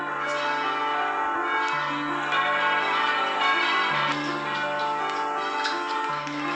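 Church bells at St Lawrence Church, Ipswich ring loud and close in a continuous overlapping peal, with strikes following one another in steady succession and no voices.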